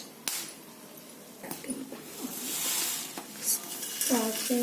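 Whole cloves drop into hot oil in a kadai with a few light clinks and scrapes of a spoon against the metal and a soft crackle of frying underneath, fairly quiet and with no voices.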